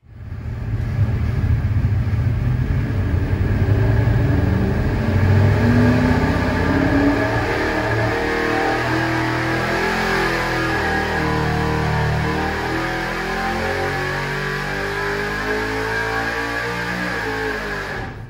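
A truck engine revs on a dyno, starting with a deep roar and rising through steady climbing harmonic sweeps that hold loud and close for the whole run.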